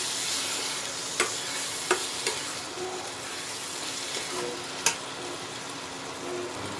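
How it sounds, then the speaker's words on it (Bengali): Lentils for egg tarka stirred into cooked-down spice masala in a pan: a steady, low sizzle with a few sharp spoon knocks against the pan, no voices. "এর মধ্যে আমি এই তরকার ডালগুলো দিয়ে দেবো। দিয়ে একটু মশলার সাথে মিলিয়ে নেব।"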